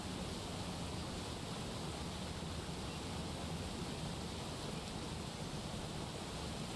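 Steady broadband rush of a waterfall in the video game Ball X Pit, a constant, even wash of falling water heard alone with no voices.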